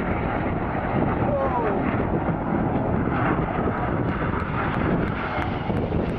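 Red Arrows jets in a synchro pair pass at Bournemouth Air Festival 2011, a loud continuous roar of jet engines crossing close by, with rumbling wind buffeting and a commentator's voice under the noise.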